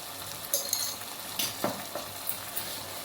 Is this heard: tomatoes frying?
yes